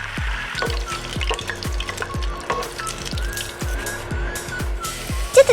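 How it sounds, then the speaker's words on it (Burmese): Food frying in hot oil until crispy, a steady close sizzle broken by regular sharp clacks of a utensil against the pan throughout. "ရင်ဆုံးဂျင်းလေးကိုကျွတ်နေအောင်ကြော်ပါမယ်"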